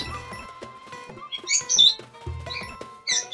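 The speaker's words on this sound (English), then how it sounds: "Fucking birds, man." Short bright bird chirps and tweets in the Super Mario Bros. Wonder desert level come in small clusters over a game soundtrack, light and close.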